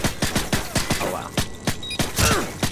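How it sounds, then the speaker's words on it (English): In a search-and-destroy match on the Scrapyard map, an enemy player's gunfire cracks out as a rapid series of sharp shots with uneven gaps, set against faint background game noise. "Oh, there's the other guy shooting."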